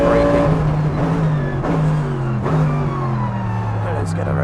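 Mercedes AMG GT3 race car at full power on the Donington GP circuit, its loud engine climbing steadily through several quick upshifts, close and continuous, with someone talking over it.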